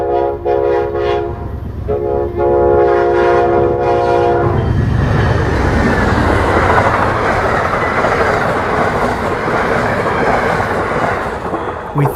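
Amtrak 43, the westbound Pennsylvanian passenger train, sounds a loud multi-tone horn in several blasts and then roars past close by with steady rumbling and rail clatter.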